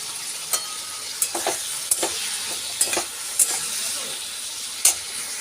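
Fish heads frying in a pan with salt and turmeric, a steady sizzle broken by several sharp stirring scrapes and spatters, close and fairly loud, with no talking.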